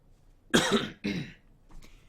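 Two close, sharp coughs in quick succession from a person recording game commentary, followed by a fainter throat-clearing sound a moment later.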